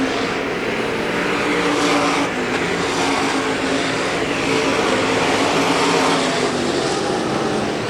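Race cars lapping Hagerstown Speedway, a dense, loud roar of several engines running nose to tail, sustained and unbroken without talk.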